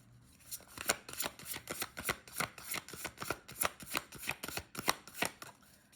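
A deck of oracle cards is shuffled by hand in a quick, even run of about a dozen crisp riffling bursts, close and alone without speech.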